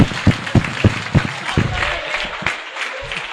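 A class claps for a student, a handful of sharp, close claps in quick rhythm that thin out and fade within a few seconds.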